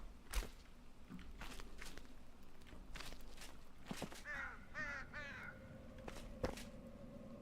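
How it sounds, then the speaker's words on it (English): Ambient birdsong and crow-like caws in the video game Enshrouded, several short chirping calls and caws scattered over a steady low background hum, moderately faint. "okay, that doesn't get rid of the birds and stuff."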